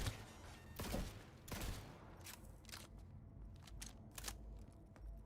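Bursts of gunfire during a police shootout in Cyberpunk 2077 crack out in quick, uneven volleys, loud at first and then thinner, with scattered shots and thuds trailing off, no talking.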